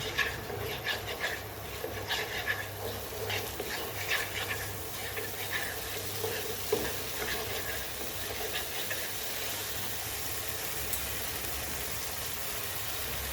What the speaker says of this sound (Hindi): इसको एक बार बढ़िया तरीके से सौते कर लेंगे